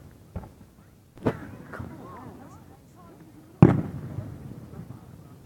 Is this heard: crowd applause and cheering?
no